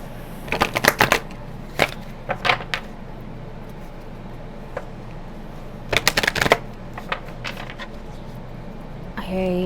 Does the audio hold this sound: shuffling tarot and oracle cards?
yes